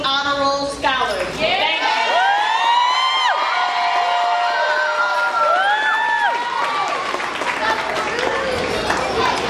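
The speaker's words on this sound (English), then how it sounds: "One last round of applause." An audience at a first and second grade school promotion ceremony applauds and cheers, with sustained clapping under rising whoops, high children's shouts and whistles from a lively crowd in a hall.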